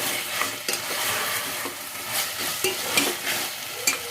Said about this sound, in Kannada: ಆಲೂಗೆಡ್ಡೆನ ಚೆನ್ನಾಗಿ ಫ್ರೈ ಮಾಡ್ಕೊಳ್ಳಿ.